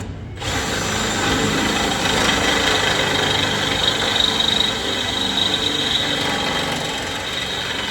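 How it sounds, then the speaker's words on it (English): A power drill runs continuously, boring holes for a winch bumper on a solid-axle vehicle build, starting abruptly and whining loud and close for several seconds. "And then we have to drill these inside holes."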